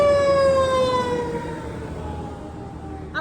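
A wailing emergency siren sweeps downward in pitch and fades as it passes, loud at first and then receding.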